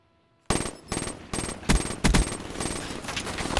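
Automatic gunfire in Call of Duty: Black Ops, with rapid bursts of machine-gun fire that start abruptly after a brief quiet and then run almost continuously with loud surges.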